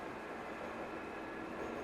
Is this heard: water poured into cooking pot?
no